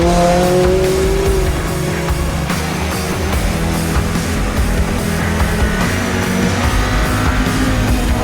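Sports car contending for the 2016 Motor Trend Best Driver's Car, driven hard with a loud continuous engine roar and sustained tire squeal throughout, close and dense.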